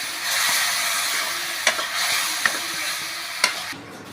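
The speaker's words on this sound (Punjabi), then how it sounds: "ਚਿੱਟਾ ਸਿਰਕਾ ਵਾਈਟ ਵਿਨੇਗਰ ਚੰਗੀ ਤਰ੍ਹਾਂ ਮਿਕਸ ਕਰ ਦਾਂ" White vinegar being stirred into mashed tomato chutney in a hot wok, a steady close sizzle and scraping stir with three sharp clinks of the spoon against the pan.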